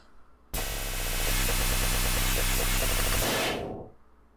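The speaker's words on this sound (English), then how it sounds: "I have this homicide layer, which is just adding a bunch of distortion." A thick wall of distorted synth noise swells in suddenly, holds harsh and buzzing for about three seconds, then fades away.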